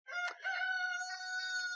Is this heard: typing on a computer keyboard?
no